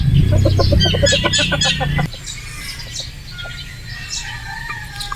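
A Boston Roundhead brood stag clucks up close in a rapid run of loud calls for about two seconds, then quieter clucks and other fowl calls continue in the background.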